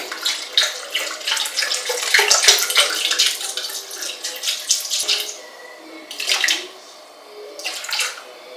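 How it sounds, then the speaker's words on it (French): About 300 ml of milk poured into a bowl for a batter in a home kitchen, a close, uneven liquid splashing and trickling in bursts with short pauses between. "Je vais rajouter 300 ml de lait."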